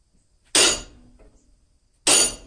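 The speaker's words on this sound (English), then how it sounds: "we're going to cut in our mouth with a slit chisel" Two sharp, loud hammer blows land on a slit chisel, cutting the mouth into a forged ram's head, with about 1.5 seconds of near silence between the strikes and a brief ring after each.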